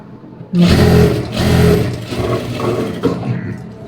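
A sewing machine runs in close bursts as it joins fabric pieces along a one-inch seam allowance, with several loud stitching runs separated by brief pauses and no talk.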